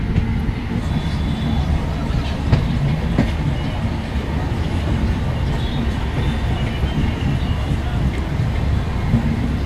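Inside a metro train on an elevated line, a loud, steady rumble of wheels and carriage rattle runs throughout, with a faint clickety-clack over the track.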